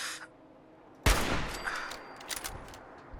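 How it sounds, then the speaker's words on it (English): A single sharp gunshot in the Fallout 4 video game cracks loudly and then rolls into a trailing echo, followed by faint scattered clicks and tones, with no voices over it. "Can I shoot you from here? I can."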